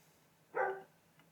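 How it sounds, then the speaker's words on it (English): A single short dog bark sounds once, faint and distant, against a quiet background. "Sorry if you can hear my dog outside."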